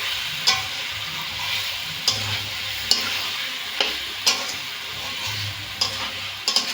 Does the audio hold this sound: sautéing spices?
yes